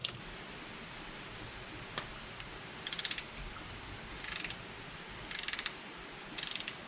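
A ratchet with an 11/16 socket installs a coolant temperature sensor on a car engine, giving four short bursts of rapid clicking spaced a second or so apart over a faint background.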